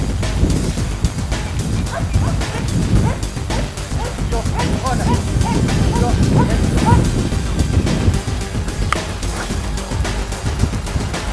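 A Belgian shepherd search dog barks in a run of sharp, repeated yips and barks over wind and background noise, with voices talking around the barking.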